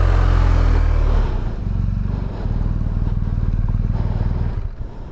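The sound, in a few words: motorcycle slow riding maneuvers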